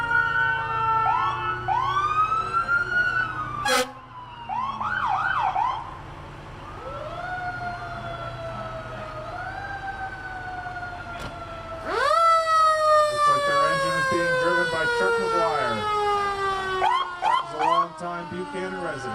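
A fire engine from the Fulgum Engine Company sounds its siren at the 2018 Buchanan St. Patrick's Parade: loud, close wailing sweeps rise and fall repeatedly, then swell to a fuller, louder blast partway through.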